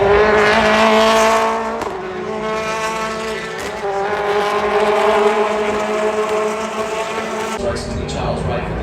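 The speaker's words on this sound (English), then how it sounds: "Here he comes, the forward focus diving at the inside of Dan Lloyd" BTCC touring cars racing at Silverstone, engines roaring loudly and continuously with gear changes and pitch shifts as cars dive past, with commentary over the top.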